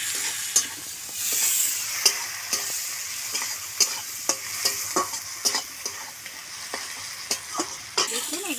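Garlic, tomato and spices frying in a pan for a duck egg curry, a constant close sizzle punctuated by regular sharp scrapes and knocks of a spatula stirring, with no voices.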